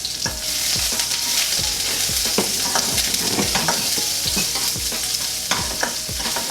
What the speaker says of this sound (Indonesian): Kita tumis dulu bawangnya.